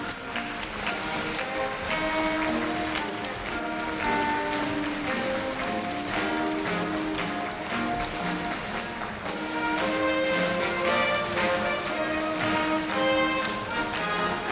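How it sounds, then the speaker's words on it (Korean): A crowd at the 2015 Korea University freshman entrance ceremony claps to see off the university president and council members as they leave, a steady, dense wash of applause that continues unbroken over music playing in the hall. "네, 끊임없는 환송의 박수 부탁드립니다"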